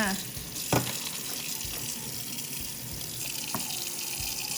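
Tap water runs steadily into a sink while pork leg is rinsed, with occasional clunks and splashes close by.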